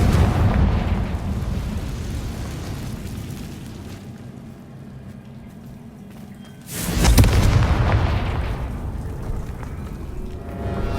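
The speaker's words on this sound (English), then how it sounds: "Confringo!" A Confringo fire spell explodes in the Hogwarts Legacy video game, a single loud sudden blast breaking a low rumbling stillness and decaying into a lingering roar.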